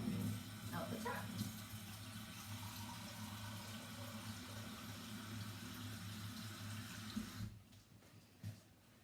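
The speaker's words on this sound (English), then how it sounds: "So I'm going to get some warm water out the tap." Warm water runs from a tap in a steady, continuous rushing stream that stops near the end, heard close and fairly quiet.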